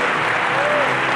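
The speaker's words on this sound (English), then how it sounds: "Give God a big clap." Congregation clapping at a church service, a brief, loud burst of applause with voices and a faint held tone beneath it.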